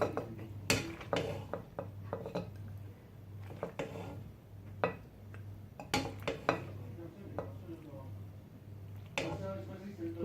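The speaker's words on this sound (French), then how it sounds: "Je vais mettre ça dans une assiette" Hot cooked pasta being served onto a plate in a home kitchen, with repeated clinks and scrapes of utensils against dishes in irregular bursts, under a steady low hum and intermittent speech.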